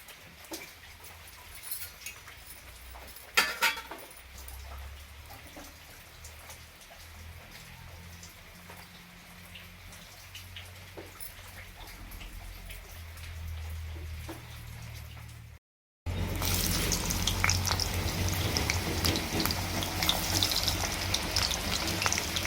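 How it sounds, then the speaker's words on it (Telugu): Potatoes frying in hot oil: a quiet stretch of faint drips and light crackles, a brief silent gap, then a loud, dense, continuous sizzle up close. "నూనె వేడెక్కినాక ఈ బంగాళదుంపల్ని మంచిగా వేపుకుందామండి."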